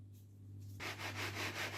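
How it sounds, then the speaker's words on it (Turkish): A knife slices through a tray of potato börek, a quiet pause followed by several rhythmic scraping, crunching strokes through the pastry, close and soft over a low steady hum. "İlk önce bir keselim biz bu böreği."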